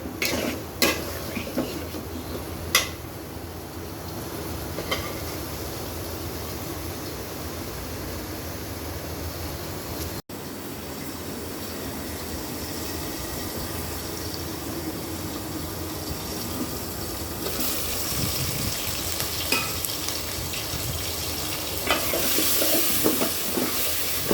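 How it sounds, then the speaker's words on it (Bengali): Taro is stir-fried in a pan for a red prawn curry, giving a steady sizzle with spatula scrapes and stirring clatter, close and continuous, growing brighter and louder toward the end. "ফুলকচুমুটিটা ভালোভাবে কষিয়ে নিব সিদ্ধ হওয়া পর্যন্ত"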